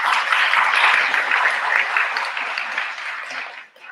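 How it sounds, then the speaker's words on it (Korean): A church congregation applauds during a Sunday morning service, producing a dense, even wash of clapping that holds steady and then fades away at the end. "박수합니다."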